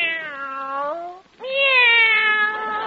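Cats in a cage give two long, drawn-out meows, the second louder and more plaintive, close and clear with no voices.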